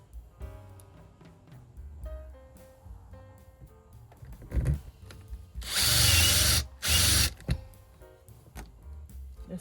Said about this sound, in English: I want to put some screws through there that have a washer on the back